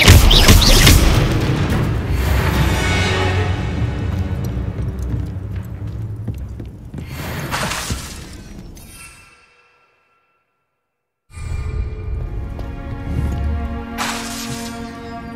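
Bombarda spell explosion in Hogwarts Legacy, a loud booming blast with rumbling debris that fades to silence, then a second booming burst follows after the gap.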